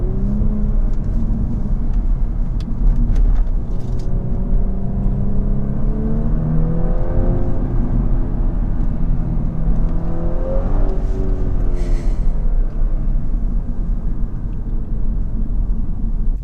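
An Audi S5 Sportback's engine pulls hard through a jug handle turn, a steady close rumble and whir from inside the cabin that rises and falls in pitch as the car accelerates, with no talking.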